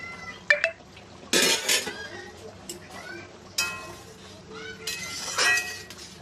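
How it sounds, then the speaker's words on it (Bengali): A metal lid comes off a cooking pot of simmering lentil-fritter and potato curry with a few sharp clinks and clatters, close by against a quiet kitchen background. "আমি ঢাকনা খুলে দেখব"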